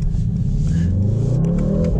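Mercedes-AMG GT 63S engine pulling hard from inside the car, a loud steady mechanical roar whose pitch climbs smoothly through about two seconds of acceleration, with no talking.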